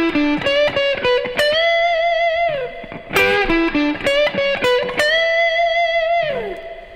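An electric guitar plays a blues lick, fast picked and bent notes followed by a sustained double stop on two strings pulled with a bend, played twice, loud and clean with no talking.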